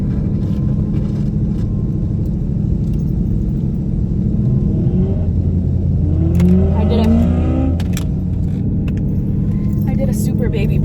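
Car doing a small burnout at a drag strip on a hot day, steady loud engine rumble with rising revs and tire squeal streaks midway, a voice talking over it.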